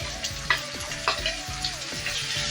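Onions and tomatoes fry in a pan for tamarind chutney, giving a steady close sizzle broken by quick scraping stirs, with no voices.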